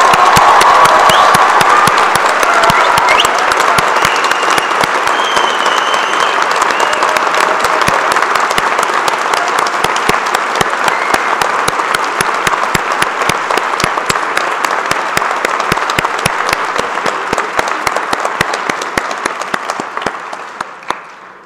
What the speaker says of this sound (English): would you please join me in a round of applause acknowledging our graduating class of